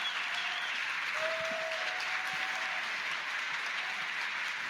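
Crowd applause from a played recording of a discussion, a steady dense wash of clapping that holds at even loudness throughout with a faint tone drifting above it and no voices.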